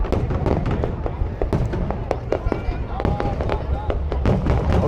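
Fireworks burst over the Saigon riverside on New Year's Eve, a steady run of sharp cracks and booming thuds layered over a constant crowd roar, with scattered whistles rising between the blasts.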